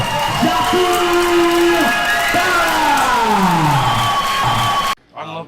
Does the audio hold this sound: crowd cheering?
yes